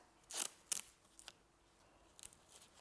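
Scissors snipping off excess masking tape and craft material on a carnival mask, two crisp close cuts followed by a few fainter snips, with no voices.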